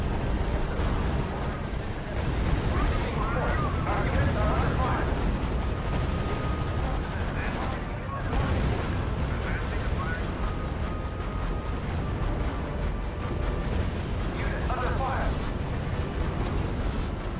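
Tank gunfire and explosions from a battle in the strategy video game R.U.S.E., set in Italy, forming a dense, continuous rumble of booms and shots at steady loudness across the whole stretch.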